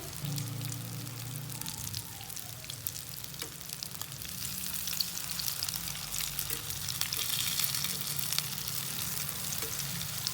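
Beef gola kebabs frying in a pan, a dense, continuous crackling sizzle like light rain, steady and close throughout with no talk.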